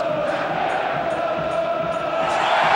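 Home crowd at a 1995-96 Champions League football match between Borussia Dortmund and Rangers, a steady, dense roar of cheering filling the stadium throughout, unbroken and fairly loud.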